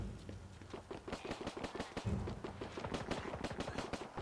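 Rapid, loud bursts of gunfire in the video game Dead Rising 4, with dozens of sharp shots in quick succession, some clustered like automatic fire, continuing without pause.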